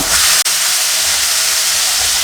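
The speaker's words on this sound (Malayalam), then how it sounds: "ഇനി ഇതൊരു ഗോൾഡൻ നിറമാകുന്നത് വരെ വാറ്റി കൊടുക്കണം" Chana dal and urad dal frying in hot oil in a pan until golden, a steady, loud broadband hiss and sizzle that holds throughout with a single brief break, no talking.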